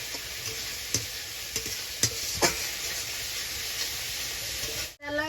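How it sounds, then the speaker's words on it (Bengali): Ground spice paste frying in a pan for a cauliflower and fish curry, a steady hissing sizzle broken by several sharp scrapes of stirring, then a brief dip near the end. "আমি মশলাটা কষাবো যাতে পুড়ে না যায়"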